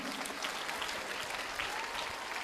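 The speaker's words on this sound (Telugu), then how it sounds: "ఇక్కడైనా క్లాప్స్ కొట్టే అవకాశం తీసుకోండి" A crowd at a Women's Day felicitation event claps steadily throughout, dense and even applause from many hands at close range.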